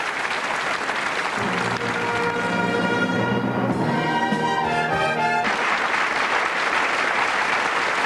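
Studio audience on a 1990 French TV variety show applauds a police brass band, steady loud clapping throughout while the band's brassy held chord rings over it in the middle.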